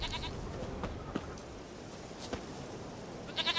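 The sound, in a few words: goat bleating in video game The Witcher 3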